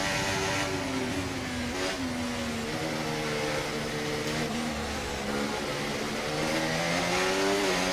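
Formula 1 car engine at full throttle in the F1 24 racing game at Monaco, a steady high-pitched whine that shifts and climbs through gears for the whole stretch, loud and close, with no talk.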